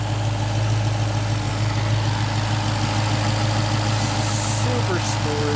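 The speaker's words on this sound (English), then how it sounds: "There's your supercharged Hemi" A 2015 Dodge Challenger SRT Hellcat's supercharged Hemi V8 idles in a steady, loud, low rumble with an even throb, heard close up throughout.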